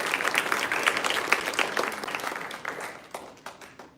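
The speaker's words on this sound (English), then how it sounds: "Let's give a big round of applause to Veda and Bhajan teachers." Applause at a graduation ceremony honoring Veda and Bhajan teachers, a crowd of clapping hands that starts full and gradually thins and fades over a few seconds.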